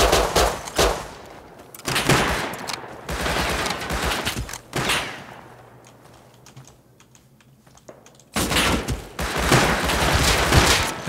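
Gunfire in the survival game Rust mixed with rapid keyboard clatter, long dense bursts of shots that stop for a few seconds before another loud burst, close and harsh throughout.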